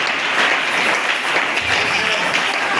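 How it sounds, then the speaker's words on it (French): Congregation at a New Year's dawn church service applauding and cheering loudly: dense, continuous clapping with shouts filling the whole stretch, sustained and close without pause. "Nous acclamons très fort pour vous."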